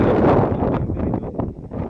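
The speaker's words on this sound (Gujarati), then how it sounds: "ફરીથી વરસાદ ચાલુ થઈ ગયો છે" Wind gusting over open farmland during an unseasonal storm, with rain starting again; a steady, loud, close rush fills the clip without a break.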